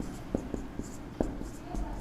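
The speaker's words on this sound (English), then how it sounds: "Or let me write it properly." Chemical formulas for ions are handwritten, likely marker or pen on a board or paper, giving short scratchy strokes and taps in a quick irregular rhythm against a low room hum.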